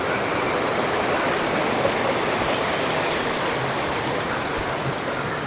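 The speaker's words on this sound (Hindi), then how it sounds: "और पानी आ रहा है" Mountain stream rushing steadily along a pass trail between Kalam and Kumrat in Pakistan, a dense, continuous roar of flowing water close by with no voices.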